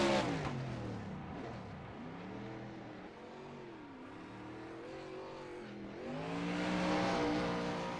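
A wingless USAC sprint car drifts in the iRacing sim racing game, its engine revving up and down in close, rising and falling sweeps that climb to a louder whine near the end.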